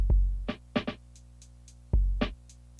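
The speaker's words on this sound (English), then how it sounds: "I've pulled in Expand 2, and I've got this hip hop kit." A hip hop drum kit from the Expand 2 library plays a sparse, quiet lo-fi beat: deep booming kicks, a few snappy hits and light ticking hats in a loose, repeating pattern.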